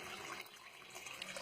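Water is poured again in a steady, close splashing stream during a Janmashtami celebration, a continuous rushing pour with no voices.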